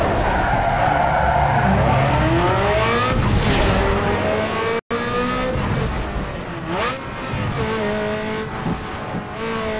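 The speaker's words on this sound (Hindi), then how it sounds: "मैं ड्रिफ्टिंग करते हुए थोड़ा सा बूस्ट दिया गाड़ी को नाइट्रो और ये ड्रिफ्ट पावर स्लाइड" A car in Need for Speed 2 power-slides in a drift with a nitro boost, its engine revving up and down in loud rising and falling sweeps over continuous tire skidding, with a brief dropout midway.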